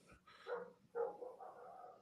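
A dog gives two muffled, somewhat distant barks in quick succession, followed by a softer trailing whine-like sound in a quiet room.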